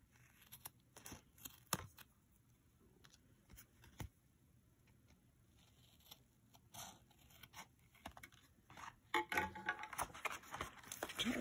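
Paper pocket corners trimmed for a photo folio: quiet, close scissor snips and paper rustles in scattered bursts, growing busier and louder toward the end.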